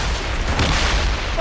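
Cannon fire from a sailing warship in Assassin's Creed Rogue makes a loud, dense booming roar with a sustained rumble, under shouted voices.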